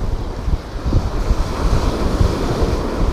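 Wind buffets a microphone on a beach at Kaikoura, a steady low rumbling roar with gusty swells, blended with the wash of surf, no voices.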